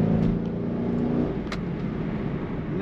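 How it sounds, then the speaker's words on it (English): A 2004 Chevrolet Corvette Commemorative Edition coupe roars close by with a loud, steady exhaust drone that swells slightly, low and throaty, with no talking. "Nice aggressive exhaust note."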